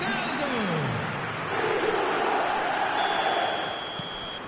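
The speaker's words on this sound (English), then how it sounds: "The crowd are calling for this to be put to bed." A football stadium crowd in a video game calls out in a loud, sustained chant-like roar that swells and holds, with a falling whistle-like tone early on.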